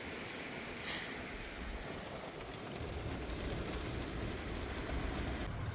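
Steady rain falls on a parked car during summer car camping, a continuous broadband wash heard from inside with no voices.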